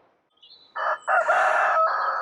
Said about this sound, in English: Oh, my cockerel would like to say hello.